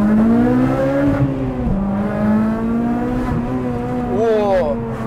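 A naturally aspirated Honda Civic Type R FD2 with a K20A VTEC engine revs hard and steadily, its pitch rising and shifting through the clip, loud and close, with a brief dip like a gear change.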